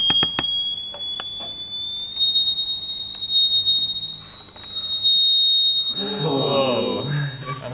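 A test tone driving a Chladni plate, a piercing steady whistle that glides gradually upward in pitch, heard with a few sharp clicks and knocks, then a person talks over it near the end.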